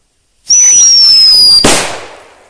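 An I LOVE SKULL CLE0205I whistling firecracker lets out a loud, steady high-pitched whistle for about a second before ending in a sharp, sudden bang that fades away.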